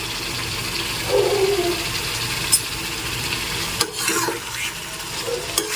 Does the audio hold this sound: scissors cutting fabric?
no